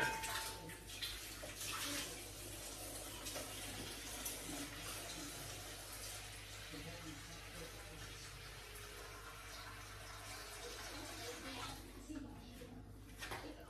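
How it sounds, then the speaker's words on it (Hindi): Water pours steadily into a pot of rice being cooked for chicken pulao, a continuous broad splashing wash that runs without break and grows slightly louder near the end. "ये देखें जी, अब हम इसके अंदर पानी ऐड करेंगे।"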